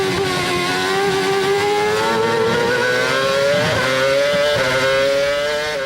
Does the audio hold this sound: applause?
no